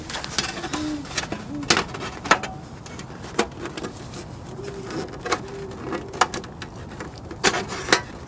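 Owls call repeatedly outside a hot tent, with short hooting and cooing notes scattered across the stretch amid rustling and clicks from tent assembly close by.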